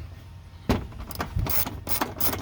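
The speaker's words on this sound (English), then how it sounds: "I really do like this little stubby ratchet." A small stubby ratchet wrench clicks in short bursts while tightening a fitting during a horn upgrade on a Toyota RAV4, with close, uneven ratcheting and a few rubbing scrapes.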